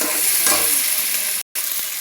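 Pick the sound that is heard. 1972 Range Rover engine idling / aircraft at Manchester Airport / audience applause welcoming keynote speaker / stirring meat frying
stirring meat frying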